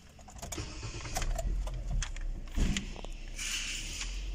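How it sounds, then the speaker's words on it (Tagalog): A car engine cranks and turns over close by, settling into a steady idle after a few seconds; the car has a noisy air-conditioning blower motor and weak airflow. "start ko natin yung sakyan"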